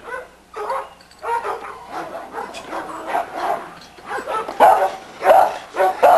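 Scarlet, a small female dog with a black mask and an undershot jaw, barks and yips in a yard in short irregular bursts, loud and close, with whimpers between.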